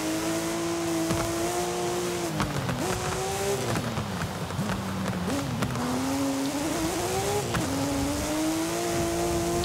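Bugatti Chiron-style hypercar with all-wheel drive and a mid-mounted engine in Forza Horizon 5, its engine droning steadily and rising and dipping in pitch through gear changes and revs across a winding mountain road, loud and continuous with no talk.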